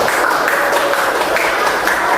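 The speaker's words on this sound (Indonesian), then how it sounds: "Ya, betul, tepuk tangan dulu." Classroom applause during a teaching session, a dense, steady wash of clapping that stays loud and even from start to finish.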